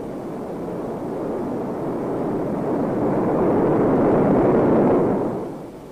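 A rocket sled races along its track at over 1,000 mph, a loud broad roaring rush that swells steadily over several seconds and then tapers off, with no talking.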